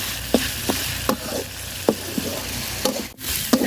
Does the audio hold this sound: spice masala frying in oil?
yes